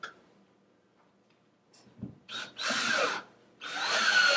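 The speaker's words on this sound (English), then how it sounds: "So what I'll do is I'll take a screw and a drill bit." A power drill drives a screw into a cube block during a donor wall installation, two close whirring bursts with a short pause between them after a faint tap.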